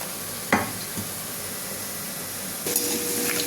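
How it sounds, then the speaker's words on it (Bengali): Potatoes fry in hot oil in a pan, a steady close sizzle broken by a sharp clack of utensil or pan early on and a louder surge of crackling near the end. "তেল বসিয়ে দিয়েছি, গরম হয়ে গেছে, আলুগুলো ভাজতে দেবো"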